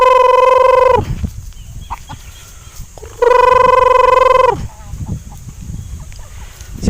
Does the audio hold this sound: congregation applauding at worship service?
no